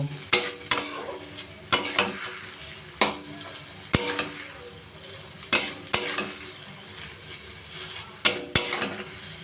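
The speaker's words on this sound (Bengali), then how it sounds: "এবার আলু দিয়ে থোট দিয়ে মশলা দিয়ে সব দিয়ে ভালো করে কষিয়ে নেব" Banana stem, potatoes and spices being sautéed for a thod ghonto with gobindobhog rice, heard as a steady sizzle cut by sharp, repeated scrapes and clacks of a spatula against the pan, about one every second or so, with no talking.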